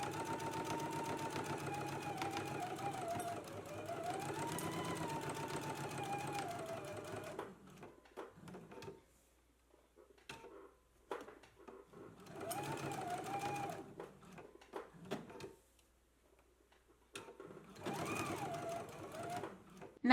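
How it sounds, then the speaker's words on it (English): A sewing machine stitches a 3/8-inch seam allowance on garment fabric in three close, steady bursts of rapid whirring and clicking, separated by quiet pauses. "we can go ahead and stitch in a 3/8 of an inch seam allowance"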